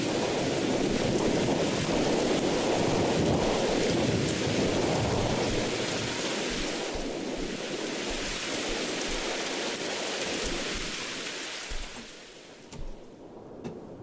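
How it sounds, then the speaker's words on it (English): Heavy steady rain and rumbling thunder from a thunderstorm in the horror role-playing game Mothered, loud and continuous for most of the clip before thinning toward the end. "It looks like the storm is picking up."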